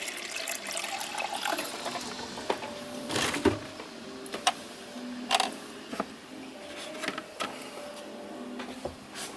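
Fresh water being fetched for watercolour painting: clinks, splashes and small knocks of a jar and brush at close range, irregular and moderately loud, with no speech.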